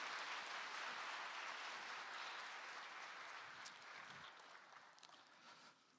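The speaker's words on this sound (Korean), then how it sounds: "우리 박수로 우리 환영하고 축복하도록 하겠습니다" A church congregation at Incheon Central Church applauds to welcome newly installed members during a Sunday worship service, a soft, distant wash of clapping that slowly fades.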